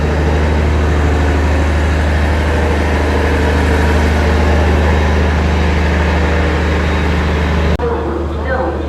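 A train's generator car runs with a loud, steady low drone that hums continuously, then drops off abruptly near the end as a quieter ambience takes over.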